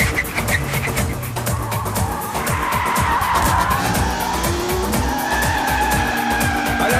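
A car skids loudly as it is swung around in a hurried turn, with tires squealing and the engine roaring over rumbling road noise for several seconds.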